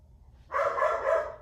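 Dogs bark and yip in a continuous, slightly muffled stretch from a short distance, starting abruptly after a quiet moment.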